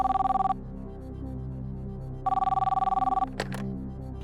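Telephone ringing as a call is placed on a televised quiz show, two loud electronic ring bursts separated by a pause, followed by a brief higher tone near the end.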